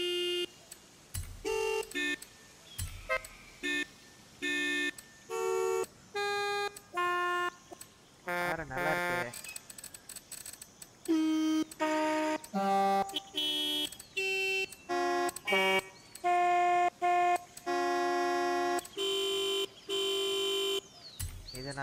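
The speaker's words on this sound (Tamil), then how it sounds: "no car is complete without a நவல்ட்டி horn" Novelty car horns honking in Forza Horizon 5, a series of short tonal toots and melodic blasts in choppy bursts, loud and close, with some game music-like tones between them.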